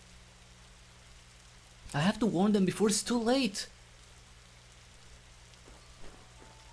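Steady rain in a horror video game, a soft continuous patter under a line of spoken dialogue, with faint distant taps afterward.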